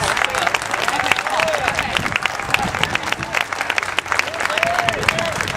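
A crowd at a Chino Hills Tea Party rally claps and cheers loudly and steadily for several seconds, a dense wash of hands with scattered whoops rising over it.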